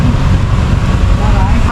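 Loud, constant buffeting of wind against a microphone outdoors on a dairy farm, a heavy low rumble that masks most other sound, with a voice barely present.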